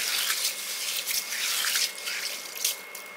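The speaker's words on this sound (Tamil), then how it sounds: "இப்போ நல்லா பிணைஞ்சு கழுவணும். இப்படி நல்லா தேய்ச்சி நல்லா கழுவிடணும்." Sprouting grains being rubbed and washed by hand in water, with soft dripping, splashing and squishy swishes in uneven bursts, close and fairly quiet, no talk.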